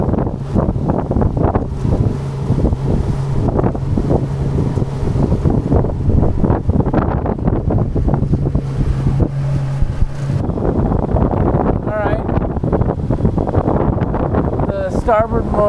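Strong gusty wind on open water off Lanes Island on a June day, roaring and buffeting the microphone close up as continuous loud broadband rumble from a boat, with a voice briefly audible near the end.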